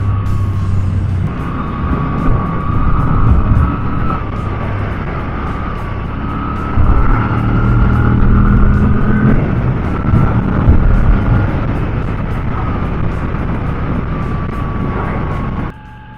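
A Moto Guzzi V7 Special 850 motorcycle on a ride, its engine droning loudly and steadily throughout with pitch rising and swelling as it accelerates, under heavy wind rush, before cutting off near the end.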